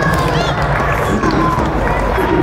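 Applause and crowd noise from an audience at a Gameathlon gaming event, cheering a contestant who has just won a hat. It is a dense, steady wash of clapping and hubbub with voices mixed in, and it carries on without a break.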